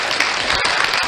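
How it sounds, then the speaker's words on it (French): A studio audience claps in a brief, dense burst of applause, loud and steady throughout. "Des applaudissements d'abord."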